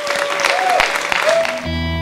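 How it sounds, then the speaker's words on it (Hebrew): Audience applause at an outdoor concert in a garden fills the opening moments, with a sustained tone over it before music chords take over at the end. "קבלו במחיאות כפיים"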